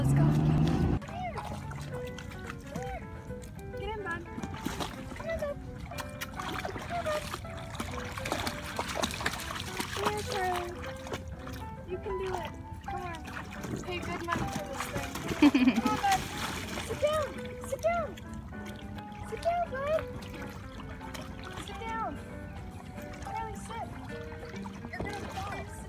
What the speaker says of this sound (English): we're down at the river and we're gonna try and put Charles in this to see how he reacts